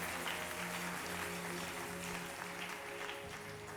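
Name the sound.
congregation applauding and acclaiming the Lord in church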